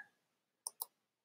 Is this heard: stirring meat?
no